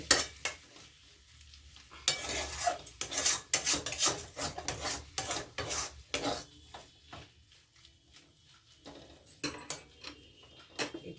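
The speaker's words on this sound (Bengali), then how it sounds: "কম করে আস্তে আস্তে এবার নাড়াবো, আস্তে আস্তে ওলট পালট করতে করতে" Mashed green pea curry stirred slowly in a pan over low gas, soft scraping and rasping strokes of a spoon against the pan in irregular bursts, quiet and close.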